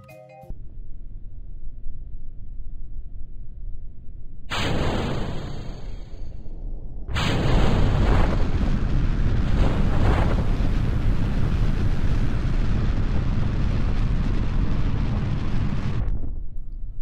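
Rocket liftoff in Kerbal Space Program: a quiet rumble gives way to a roaring engine burst, then a sustained, loud, broadband thrust roar that lasts about ten seconds and cuts off abruptly.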